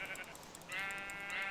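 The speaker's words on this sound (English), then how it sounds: "These sheep look like players in iron armor, and it's pretty scary." Sheep bleating in a Minecraft survival game set in swamp lands, two drawn-out wavering bleats at moderate level, the second longer and fuller, with no talk over them.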